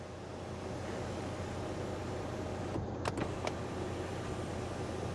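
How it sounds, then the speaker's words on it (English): The power sunroof of a 2014 Mercedes CLS 550 runs as a quiet, steady electric motor hum, with a few faint clicks partway through. "The sunroof works great"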